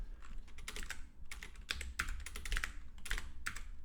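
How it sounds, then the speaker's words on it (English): Computer keyboard being typed on while writing code, a steady run of quick, light key clicks with uneven rhythm and a few short pauses, close and quiet, no talking. "we're going to have to just type all this one out"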